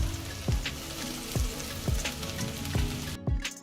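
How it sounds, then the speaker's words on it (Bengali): Spice masala with garam masala powder fries and sizzles in a pan for banana kofta curry, a loud continuous sizzle broken by regular stirring strokes roughly every half second. "একটু কষিয়ে নিতে হবে ভালো করে এবারে দেওয়া হচ্ছে সামান্য একটু গরম মশলা পাউডার"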